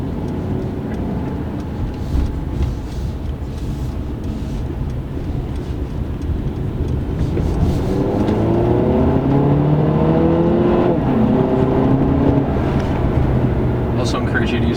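A 2016 Mercedes-Benz C300 on a test drive accelerates hard, its engine rising from a steady cabin rumble into a louder, climbing, sweeping drone, with a voice heard at times over it.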